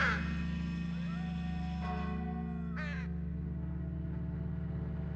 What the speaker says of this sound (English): Large black crows are watching me.